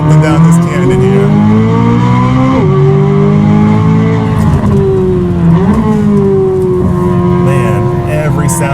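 Corvette C8 Z06 with an AWE SwitchPath exhaust accelerating up a canyon road, loud sustained engine roar rising and dropping through gear changes, heard close from inside.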